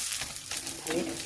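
Leafy greens paratha frying on a hot tawa, a soft continuous sizzle with a few brief brighter crackling bursts, fairly quiet and without talk.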